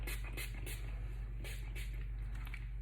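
Blossom and Bloom volumizing spray hisses onto hair roots in several short bursts, close and crisp over a low steady hum, with brief pauses between sprays.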